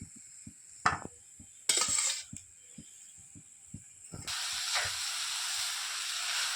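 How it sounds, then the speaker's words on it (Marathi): Black jaggery and coconut are stirred in a pan while they melt, giving a series of soft scraping taps and a few bursts of hiss, then a steadier sizzle that grows near the end. No one speaks. "लगेच ना असं हलवून घ्यायचं नाही तर गुळ ना खाली चिकटून जाईल"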